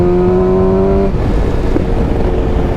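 A BMW S 1000 XR motorcycle engine runs steadily up close, a strong droning hum with harmonic tones that drop in pitch after about a second, then settle into a rough idle-like rumble.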